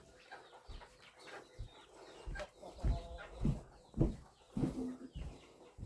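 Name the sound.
chickens clucking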